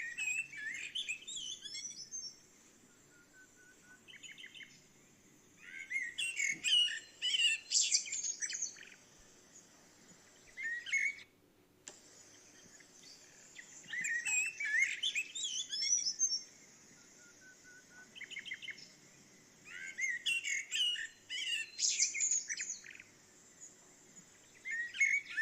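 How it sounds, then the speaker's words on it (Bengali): Birds chirp and tweet in bursts at an ornamental garden in Dubai's Butterfly Garden, with clusters of bright calls recurring every few seconds over a quiet, faint background. "ঢুকেই পাখিদের কিচির মিচির শুনতে পেলাম।"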